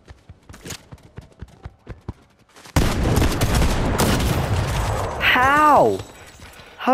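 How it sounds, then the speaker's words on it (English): Shotgun and sniper rifle gunfire in Fortnite: a run of sharp, fairly quiet cracks gives way to a loud, dense burst of firing and roaring noise, with a brief wavering tonal sound near the end. "shot the sniper and missed, and then shot his shotgun and somehow one-tapped with it"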